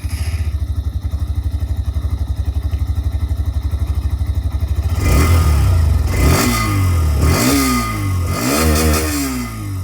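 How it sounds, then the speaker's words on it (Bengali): A 2025 Hero Xtreme 125R motorcycle exhaust idles with a steady, close putter for about five seconds, then is revved several times in quick rising and falling bursts. "এর যে এক্সস্ট সাউন্ড, সেটাও আপনাদেরকে আমি একবার শুনিয়ে দিই।"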